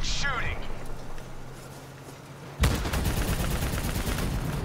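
Heavy gunfire erupts suddenly partway through a Call of Duty: Black Ops 3 battle, a dense continuous roar of shots after a quieter stretch, with a voice speaking over the start.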